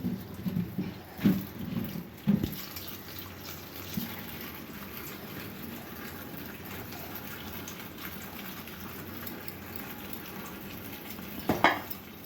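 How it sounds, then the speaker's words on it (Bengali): Okra rinsed under running water in a home kitchen, with a few loud splashing bursts and clinks of the bowl early on, then a faint steady trickle and one last splash near the end. "ভেন্ডিগুলো আমরা আগে থেকে একটু ধুয়ে নিই"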